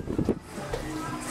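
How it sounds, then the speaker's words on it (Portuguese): Strong gusty wind roars before a storm indoors near an open window or door, a broad rushing noise that swells and surges across the moment, with a brief voice partly audible. "Olha a ventania"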